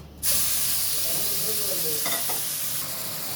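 Sliced onion frying in ghee for Alexandrian koshari, a loud, steady sizzle that starts abruptly and carries on, with faint stirring scrapes in the pan.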